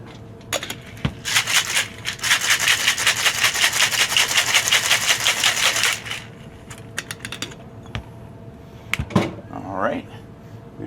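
A cocktail shaker holding a milk-based winter drink is shaken hard for several seconds in a fast, steady, loud rattle, with a few clinks before and after.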